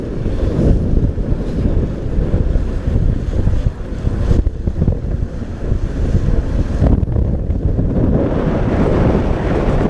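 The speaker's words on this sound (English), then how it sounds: "Heading up the East River in 30-mile-an-hour winds." Strong 30-mile-an-hour wind roars across the microphone aboard a boat heading up the East River, with steady dense buffeting and rushing water beneath, loud and continuous throughout with no talk.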